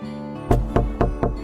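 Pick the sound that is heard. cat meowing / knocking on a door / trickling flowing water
knocking on a door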